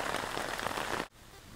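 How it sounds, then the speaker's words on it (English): Heavy rain falls at a mountain campsite in the Colorado Rockies, a dense steady patter that cuts off abruptly near the end, leaving a quieter hiss of lighter rainfall. "Well, it's still raining."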